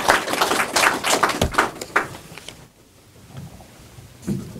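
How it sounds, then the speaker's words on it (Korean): Audience applause at a theological seminary graduation ceremony, a burst of scattered clapping that fades out midway, leaving a quiet room with faint sounds. "우리 격려의 박수로 박수합니다"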